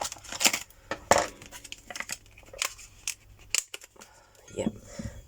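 Scissors handled and snipping up close among craft bits and pieces, several sharp metallic cuts and clicks interspersed with rustling, with a person speaking softly in between.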